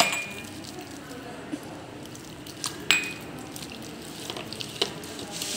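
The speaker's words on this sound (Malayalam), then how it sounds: "ഇനി ഇത് വെള്ളമൊഴിച്ച് നന്നായി മിക്സാക്കി കൊടുക്കാം." Chicken pakora batter being mixed with water in a bowl, with soft wet stirring and a few light clinks of utensil against the bowl, close and fairly quiet.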